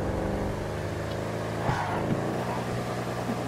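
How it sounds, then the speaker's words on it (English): A supercharged car engine in GTA Online holds a steady, droning rev with a low harmonic hum, running continuously throughout at moderate loudness with no talking. "You can just hear the revs bouncing off the tach."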